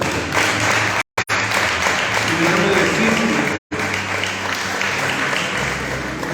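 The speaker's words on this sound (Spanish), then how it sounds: "elévale una alabanza al Señor por medio de un aplauso" Church congregation applauding during a Sunday morning service, a steady broadband wash of clapping with someone speaking over it, broken by two brief silences.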